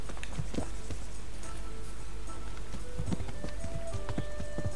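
Horse hooves clip-clopping at a steady trot in the video game Kingdom Come: Deliverance, over a constant low background hum, with a few faint tonal blips scattered through.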